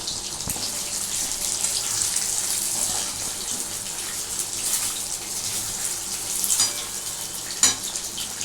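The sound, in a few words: chitol fish muitha frying in oil in batches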